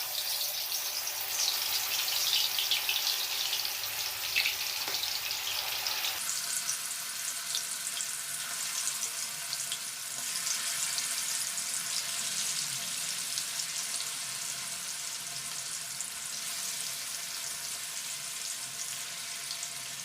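Chicken pieces frying in hot oil in a pan, a steady, loud bubbling sizzle that continues without pause, growing broader and denser partway through as more meat goes in.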